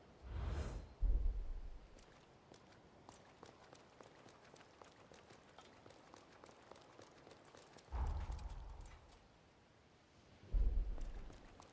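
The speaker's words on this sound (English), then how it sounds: "Zenon conjured a resilient storm" Thunder from a storm conjured by Zenon in Code Vein II: four heavy low rumbling claps, two close together at the start and two later, over a quiet, steady crackling background.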